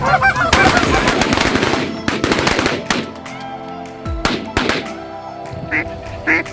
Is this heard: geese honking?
yes